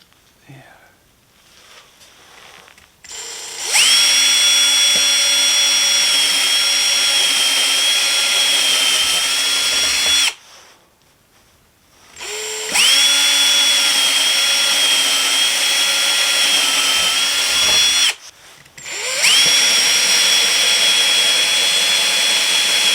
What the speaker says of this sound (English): I have my drill with a 1/4 inch bit, and now I'm going to drill my holes.